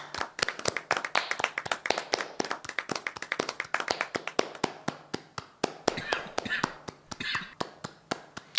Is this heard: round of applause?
yes